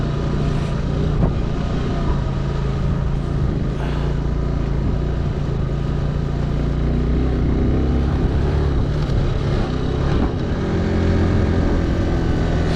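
A vehicle climbing the road up to Tanglang La pass in Ladakh, its engine a steady, close drone with continuous road and wind rumble throughout, no voices.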